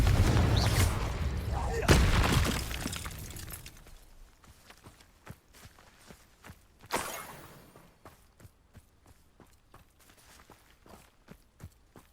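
Spell effects from Hogwarts Legacy, including the fiery Confringo blast, arrive as loud bursts and crackling impacts in the first few seconds. Lighter sharp hits and footstep-like taps follow at intervals, with another burst near the middle.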